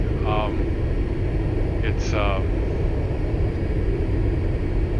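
Steady drone of a Mooney light airplane engine in the X-Plane 11 flight simulator, a constant cabin hum with a few brief tonal beeps early on and no talk.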